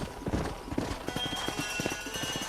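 Horse hooves clip-clop in Red Dead Redemption, a short run of close, even hoofbeats as riders slow their mounts, with a faint whinny beneath.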